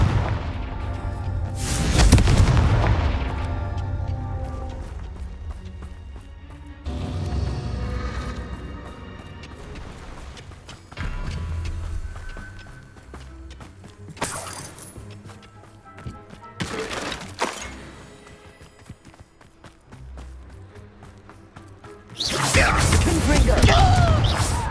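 Confringo blasting spells go off in Hogwarts Legacy, about five heavy booming explosions spread across the stretch with quieter rumbling and game sounds between them.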